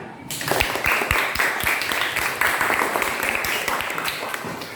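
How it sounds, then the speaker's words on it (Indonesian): A group claps steadily in a room. The applause is moderately loud and continuous for several seconds, with dense overlapping hand claps starting just after a brief quiet moment. "Tepuk tangan."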